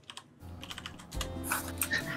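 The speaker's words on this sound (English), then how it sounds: "Matt's typing in chat." Rapid computer keyboard typing clatters up close, with quick irregular keystrokes that grow louder and busier partway through.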